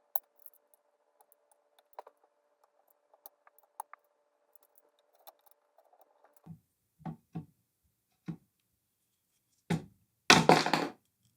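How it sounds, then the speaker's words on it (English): A block of wood taps the nut off the neck of a copy Les Paul guitar: a handful of sharp, dull knocks spaced apart, building to a louder cluster of rapid taps at the end, with no talking. "you just tap on this with a block of wood and it's going to pop right off"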